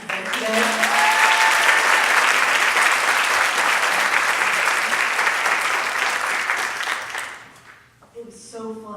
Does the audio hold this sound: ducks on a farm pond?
no